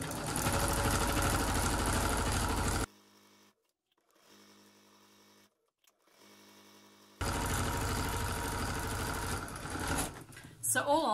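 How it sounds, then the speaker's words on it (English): A sewing machine stitches a grocery shopping bag in two loud, steady runs, with a quiet pause between them and brief handling noises at the end. "two rows of stitching"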